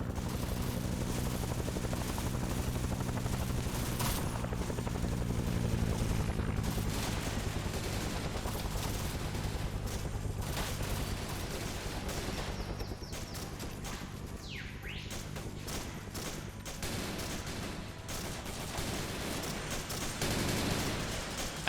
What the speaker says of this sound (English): You see where we're shooting right now?